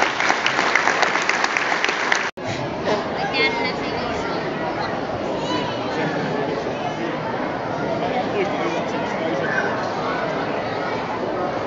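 Audience applause at a Finnish decision-announcement event with prize giving, sustained dense clapping lasting several seconds, with a sharp break near the start and a murmur of crowd chatter underneath.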